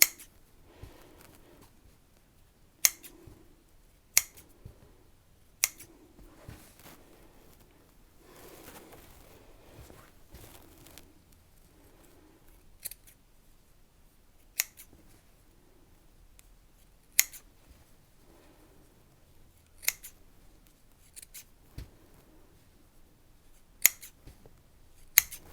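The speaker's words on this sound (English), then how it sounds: "So if you can cut it close to the fabric," Sharp, close scissor snips cutting fabric near the edge for a sewn notebook cover, isolated crisp clicks spaced every couple of seconds over a quiet background.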